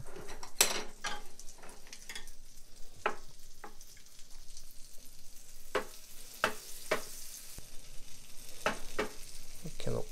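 Butter sizzling steadily in a frying pan at home, ready for lion's mane mushrooms, with sharp clinks and scrapes of a utensil against the pan over the hiss.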